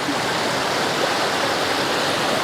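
Water rushes steadily through the filters of a portable reverse osmosis drinking water purifier, a continuous, loud, even hiss with no pauses and no talk.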